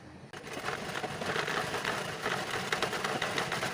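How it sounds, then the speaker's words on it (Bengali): A sewing machine runs steadily and close, stitching fabric along a marked line, its dense, even whir continuing without pause after a brief quiet start. "সেই বরাবর আমি একদম দেখে দেখে দাগ বরাবর সেলাই করে নিই"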